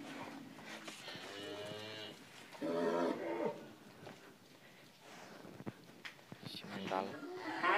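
Very large sacrificial Qurban cattle of around one ton mooing, several drawn-out, fairly loud lows in a farm pen, mixed with people talking nearby.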